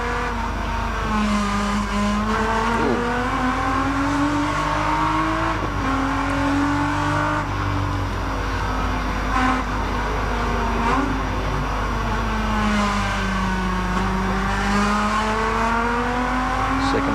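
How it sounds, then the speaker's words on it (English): BMW 635 touring car racing at the 1984 Bathurst 1000, engine revving and climbing through the gears at speed, a loud continuous onboard drone with pitch rising and dropping at each shift. "Into 3rd. Fourth gear now. In top for the run down Conrod Straight. The BMW 635."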